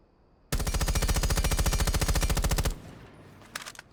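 Rapid automatic gunfire from a weapon fitted with a flash hider in Rainbow Six Siege, a single loud sustained burst of about two seconds followed by a few faint shots.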